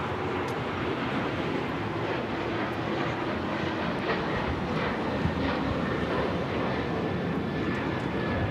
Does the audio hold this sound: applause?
no